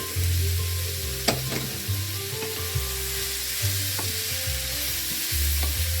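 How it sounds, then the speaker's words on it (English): Ginger stir-fried in an oily pan for an opo squash stir fry, with a steady sizzle and frying hiss and sharp spatula scrapes and taps against the pan at irregular intervals, close and fairly loud. "Now at this point, I'm going to add the ginger and give that a good stir."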